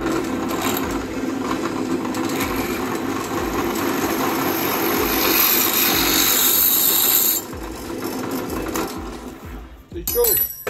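A 9 mm bit drills through metal on a Yamaha MT-09 Tracer exhaust part, lubricated with WD-40: a steady, whining mechanical drone runs close and loud for about seven seconds, then drops away into scrapes and clatter.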